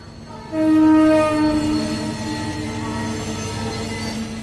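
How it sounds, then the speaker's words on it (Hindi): A train blasts its horn with a loud, sustained tonal honk, then rumbles steadily past close by, with the rolling wheel noise continuing after the horn fades. "यही ट्रेन जाती है लखनऊ, हफ्ते में एक बार।"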